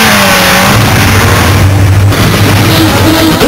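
A motorcycle rides along a road, its mid-pitched engine loud and close with a rising rev tone over heavy wind and road noise, no voices.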